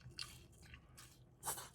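Close, crisp crunches from biting into a crunchy Taco Bell tortilla from the Decades Menu: a few sharp bites spread over under two seconds, with no talking.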